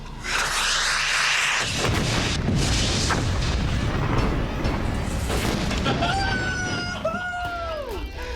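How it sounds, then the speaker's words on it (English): A Hollywood-style stunt test fires an RPG-type charge at an SUV to flip it, a loud sustained blast roar and rumble that continues for seconds, with shouting and whooping voices near the end. "That was a nice explosion."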